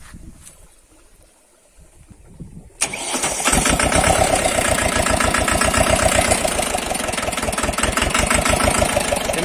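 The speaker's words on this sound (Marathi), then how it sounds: "तर आता आपण ट्रॅक्टर चालू करून घेऊ." A Mahindra Jivo 245di 4WD tractor with its diesel timing set too low cranks after a quiet stretch, catches abruptly and settles into a loud, close, rhythmic idle with rapid steady chugging pulses and no talk.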